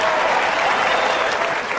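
Audience clapping at a stand-up comedy show, a dense, steady wash of applause filling the room for about two seconds without a break.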